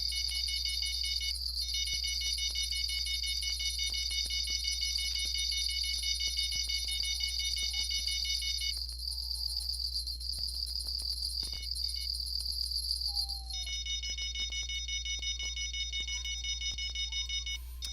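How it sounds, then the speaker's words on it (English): Rod stand alarm in the fishing game Fishing Planet, a steady high electronic beeping that runs continuously, shifting pitch partway through, alone with no talk. "that's my rod stand beeping that there's activity and tension on a particular line"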